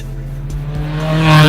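A Lotus Elise S2 sports car drives close by, its engine a loud steady drone that swells as it accelerates toward the end, no voices.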